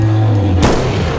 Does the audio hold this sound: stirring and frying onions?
no